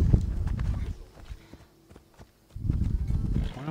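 Horse hooves thud and clip-clop in Assassin's Creed Odyssey, close and heavy in bursts at the start and end with a quieter lull of scattered steps in between.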